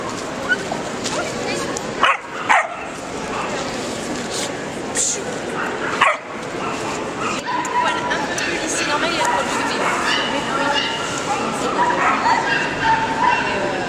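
A small shepherd puppy at a puppy show barks, yips and whimpers in short bursts close by, with people chattering in the background.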